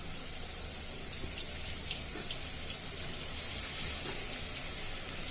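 Water streams into a mixer grinder jar in a steady, hissing pour that sounds close and moderately loud and runs unbroken for several seconds with no talking.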